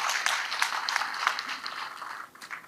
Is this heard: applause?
yes